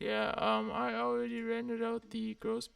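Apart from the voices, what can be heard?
No everyday noises stand out.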